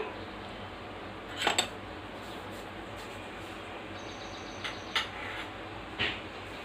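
Metal pan set down on a kitchen stove before frying dried red chillies, a few faint clinks and knocks at separate moments against a quiet room background.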